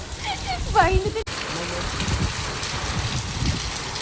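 Heavy rain pours down in a steady, dense hiss that fills the whole stretch, with people talking over the downpour early on.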